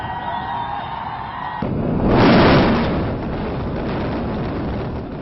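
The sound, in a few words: controlled demolition explosion of Noida twin towers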